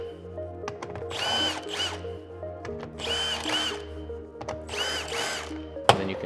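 A power driver spins out T40 screws from the dash of a Polaris Ranger XD 1500 UTV in three separate whirring bursts, close and clear, with a brief click at the end.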